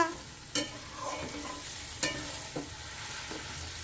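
A spoon scrapes and clacks as cabbage cooks in ghee in a pan, a few distinct close strokes over a faint steady sizzle, with no voices.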